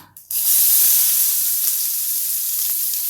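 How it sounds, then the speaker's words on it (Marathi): Onion sizzling steadily in a hot pan with turmeric, a loud continuous frying hiss that starts abruptly after a brief quiet moment and holds evenly throughout. "कांदा टाकून हा थोडासा कांदा आपण परतून घेऊया"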